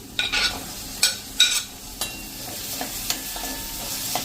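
Chopped medium tomato dropped into onions and spices cooking in hot oil for dal tadka, giving a few sharp stirring clatters and a brief burst of sizzle over a steady low fry.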